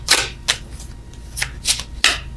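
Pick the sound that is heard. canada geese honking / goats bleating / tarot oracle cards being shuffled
tarot oracle cards being shuffled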